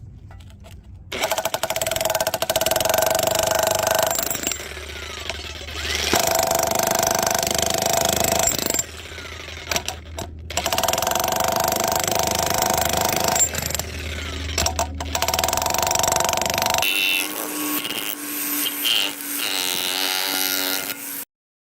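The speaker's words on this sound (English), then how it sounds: "I'm going to try using the chisel end instead of the pointy bit." VEVOR demolition jackhammer fitted with a chisel bit breaking concrete, a loud, dense hammering roar in several long bursts separated by brief pauses, ending with a lighter, irregular rattling stretch.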